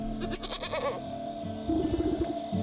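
In the Wytchwood video game, a goat bleats in protest while being sheared, giving a few wavering cries over a steady game background.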